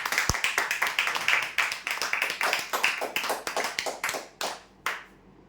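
A small crowd at a prize draw claps for a winner. The close, crisp hand claps are uneven and overlapping, then thin out into a few scattered final claps.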